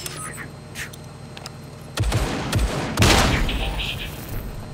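Grenades explode in the video game Scum, with sharp bursts and a heavy blast followed by a roaring rumble over a low background of gameplay noise.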